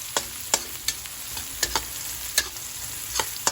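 Menudo meat sizzles steadily in a frying pan with a constant crackling hiss, broken by sharp scraping clicks from stirring at irregular intervals, close and moderately loud.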